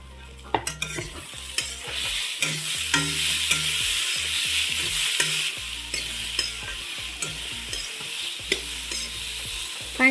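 Chopped green chillies sputter and sizzle in hot oil for a dhaba-style masoor dal tadka, with frequent stirring scrapes over a continuous frying crackle.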